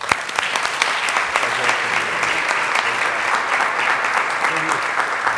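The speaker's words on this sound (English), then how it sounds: "Let's give them a big round of applause." Applause from the audience at a city council meeting, a steady wash of many hands clapping with a few sharper claps and faint voices mixed in.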